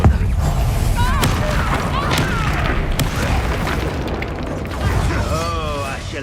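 Confringo blasting spells explode in Hogwarts Legacy, a run of loud booms and bursting pops amid game effects, with in-game character voices heard over the battle.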